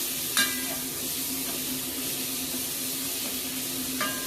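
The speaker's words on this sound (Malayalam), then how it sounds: "നമുക്ക് ജസ്റ്റ് ഒന്ന് സവാള ഒന്ന് വാട്ടിയെടുക്കാം." Onion sautéing in a pan with salt, giving a constant soft sizzle and hiss, with a couple of brief utensil clinks near the start and end, close by.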